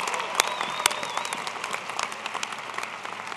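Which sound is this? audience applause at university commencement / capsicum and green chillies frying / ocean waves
audience applause at university commencement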